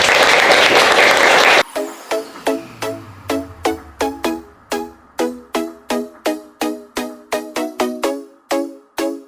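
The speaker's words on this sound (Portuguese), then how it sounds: "Uma salva de palmas, pessoal, por favor" Brief burst of audience applause at a corporate socio-environmental report launch, lasting under two seconds before giving way to a steady series of sharp, evenly spaced tonal ticks.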